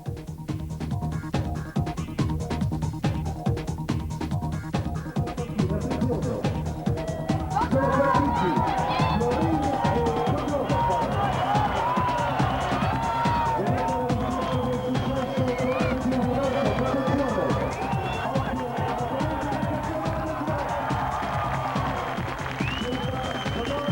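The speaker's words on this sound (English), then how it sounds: "You want to hear an Italian crowd go nuts" Italian crowd at a speed climbing competition roaring and cheering, a dense sustained wall of voices that swells and stays loud throughout, with scattered shouts and clapping mixed in.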